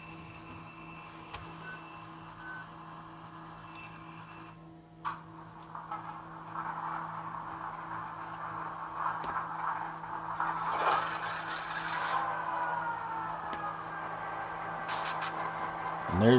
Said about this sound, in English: There's your startup sequence.